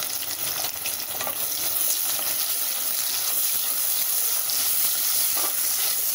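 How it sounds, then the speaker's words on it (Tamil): Finely chopped onions sauté in hot oil for tomato biryani, producing a loud, constant crackling sizzle close by, with occasional stirring scrapes and no voices. "இந்த வெங்காயத்தை நல்லா வதக்கிக்கலாம்."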